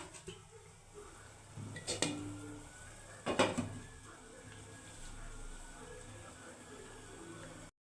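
Lid set back onto a cooking pot during preparation of a bhetki fish mustard curry: two quiet metallic clanks a second or so apart, the second a rattling double knock, over a low kitchen hum.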